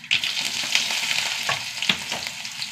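Fenugreek seeds and small shallots fry in hot oil in a pan, giving a loud, steady sizzle with crackles and a few sharp pops and stirring scrapes throughout.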